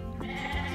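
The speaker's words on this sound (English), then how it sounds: "Lambs up there." A lamb on a homestead gives a single drawn-out bleat, moderately close against a faint background, with no one speaking.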